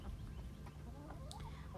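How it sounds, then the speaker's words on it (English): Backyard homestead chickens clucking in a few short, scattered calls over a steady low rumble of background noise, moderately close. "I think I am the only one in my neighborhood that has chickens."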